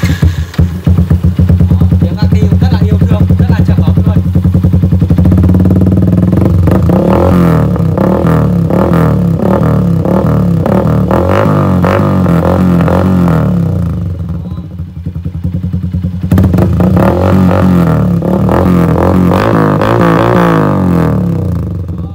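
A Yamaha Exciter 150 motorcycle fitted with SC Titan exhausts is revved hard and loud. The engine alternates between sustained high roars and uneven rises and falls, with a short dip around the middle, and speech is partly buried in the noise.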